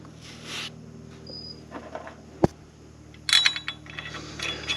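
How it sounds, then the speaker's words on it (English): A manual torque wrench tightens Wilwood brake caliper bolts on a truck, giving quiet, scattered ratcheting clicks with one sharp snap partway through, then a busier burst of metallic clicking near the end. "No fancy electronic torque wrenches here. It's just old school."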